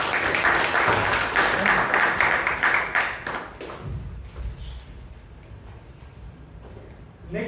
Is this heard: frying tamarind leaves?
no